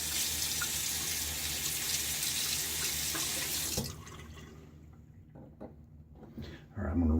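Tap water runs steadily into a sink while a shaving razor is rinsed under it, a broad continuous hiss that cuts off abruptly partway through, leaving quiet drips and small handling noises.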